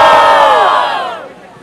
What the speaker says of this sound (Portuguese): Não perde o barulho, quem gostou mais da rima do MC JP.